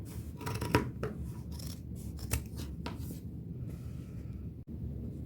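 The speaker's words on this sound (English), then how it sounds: "Now I'm just going to trim the excess and get fairly close to that line." Scissors trimming excess fabric along a marked line while a patchwork coat is made from an old dress, soft close snips and rustling fabric in a quiet room.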